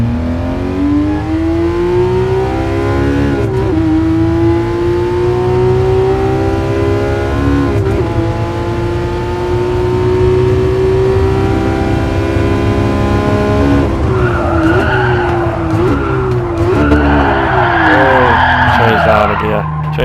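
A car in a racing sim video game powers down a straight, its engine note climbing steadily through the gear, then dropping with a gear change and further revving near the end.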